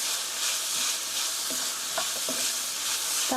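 Sliced onion, garlic and green and red bell peppers frying in a pan for mapo tofu, a loud continuous sizzle with a few soft clinks and scrapes of stirring, no talk.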